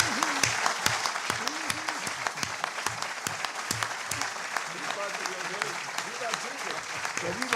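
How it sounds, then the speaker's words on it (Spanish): An audience applauds at the close of a lecture on liberalism, with steady, dense clapping throughout, loud and near, and a few voices shouting over it. "Con ese testimonio yo creo que vamos a darle un gran aplauso a Antonio por habernos visitado."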